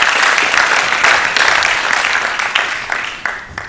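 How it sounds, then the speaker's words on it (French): Loud, close applause from an audience at a youth debate competition final, cheering the ISIC team with dense clapping that gradually thins and tapers toward the end, with a few isolated claps left at the close. "Je vous demande d'applaudir pour l'équipe de l'ISIC"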